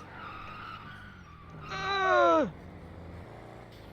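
A car in a video game roleplay skids with a loud, falling tire squeal of under a second against low background noise; a brief exclamation comes just before.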